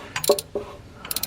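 A 15 mm gear wrench ratchets in a few quick, close clicks on an alternator bolt of a 2010-17 Chevy Equinox V6, alone and fairly quiet.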